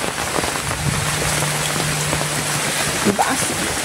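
Heavy rain pours down in a village, a loud, constant hiss of drops on surfaces close by, with a faint low hum and a brief voice near the end.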